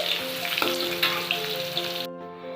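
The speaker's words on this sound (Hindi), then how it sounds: "यहाँ पे मैंने अपना प्याज जो है ऐड कर दिया है।" Chopped onion sizzles and fries steadily in a hot pan for mash ki daal, a close, even crackle with faint stirring, then cuts off abruptly near the end.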